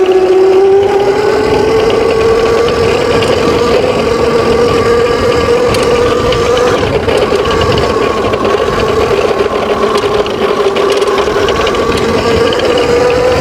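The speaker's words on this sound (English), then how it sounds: "Gets up to speed decent for a 48 volt bike." A Qwayq EM40 48-volt electric dirt bike runs off-road, its motor giving a steady close whine that climbs slowly in pitch over a rough, rattling rumble. The sound is continuous with no talking.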